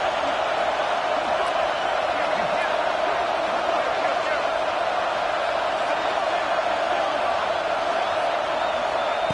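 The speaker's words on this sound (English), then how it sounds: "this crowd is fired up. Listen to this noise here." A steady, dense roar from a fired-up crowd at a college football game, with many voices blending into one continuous wall of noise that holds without a break.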